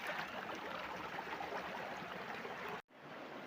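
A mountain river stream flows with a steady broadband rush and gurgle, continuous and fairly close, with a brief dropout near the end before the water noise resumes.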